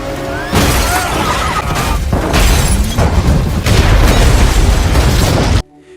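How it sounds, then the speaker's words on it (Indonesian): A car explodes after being struck by lightning in a film: a loud, sustained blast of explosive rumbling and crashing debris rolls on for several seconds, then stops abruptly. "mobil tersebut terpental dan akhirnya meledak setelah tersambar petir"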